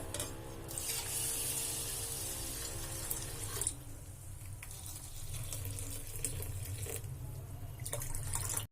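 Water is poured steadily from a tap onto rice and puffed rice set to soak for set dosa batter, a continuous close rushing stream that briefly breaks off and then resumes until it stops abruptly.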